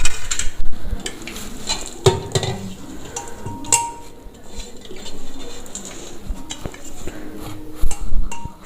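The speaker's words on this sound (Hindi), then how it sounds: "एक हम प्रेशर कुकर ले लेंगे, तो इसमें हम सभी सब्जियों को डाल देंगे।" Mixed vegetables tipped into a pressure cooker for boiling while making sarson ka saag, with close clattering of pieces against the metal pot and scraping of a spoon in short irregular bursts.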